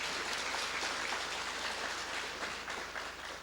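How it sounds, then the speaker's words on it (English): Convention audience at the 10th Actuarial Society of Zimbabwe annual convention applauding, a steady dense wash of clapping held at even loudness throughout, with no voices over it. "I think you can give yourselves a round of applause on that one"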